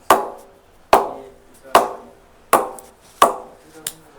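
SG Str8bat smart willow cricket bat is struck five times at a steady pace, each one a sharp, woody knock followed by a short ringing decay, close and distinct with a softer tap at the end.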